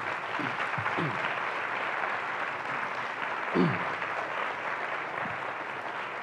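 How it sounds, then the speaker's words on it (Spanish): An audience applauds a panel on civic education for democracy with sustained, even clapping, a few louder claps standing out. "les pido otra vez un aplauso para este excelente panel"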